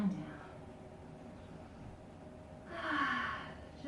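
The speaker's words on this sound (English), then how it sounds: "Inhale. Exhale." A person inhales and exhales slowly during a yoga stretch, with a soft breath near the start and a louder, longer airy exhale toward the end, close and quiet.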